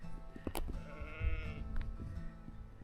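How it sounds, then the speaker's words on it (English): Sheep bleat faintly in the distance in Northumberland, a few wavering calls carried over a quiet outdoor background. "All the sheep."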